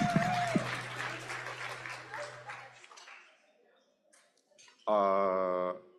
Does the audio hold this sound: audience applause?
yes